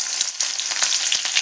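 Green chillies and cumin frying in hot oil in a home kitchen make a steady, close, loud hiss with small crackles and pops throughout, and no voices.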